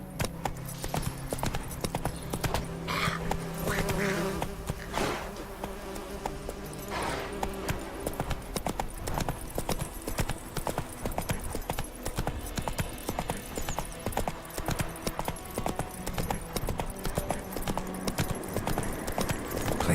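Roach, a horse in The Witcher 3 video game, with hooves clip-clopping steadily and closely throughout, amid insect buzzing and game ambience.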